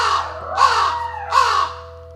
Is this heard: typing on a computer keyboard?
no